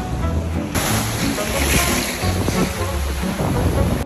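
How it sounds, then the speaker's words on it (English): Ocean surf rolling in at a beach, a steady wash of breaking waves with wind noise across the microphone, loud and continuous throughout. "Weller didn't know what to think of the ocean."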